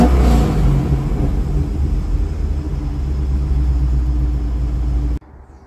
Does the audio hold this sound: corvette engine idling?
yes